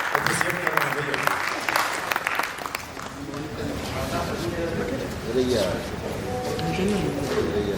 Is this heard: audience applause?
yes